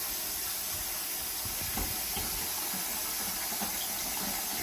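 Water runs into a pot set up for sous vide cooking, a steady broad hissing rush that stays constant and fairly loud throughout, with no voices.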